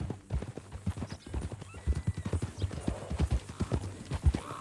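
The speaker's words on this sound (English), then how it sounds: "That a new horse?" Horse hooves clip-clop steadily in a regular trotting rhythm, with a whinny mixed in, from the video game Red Dead Redemption 2; close and fairly loud, with no talk.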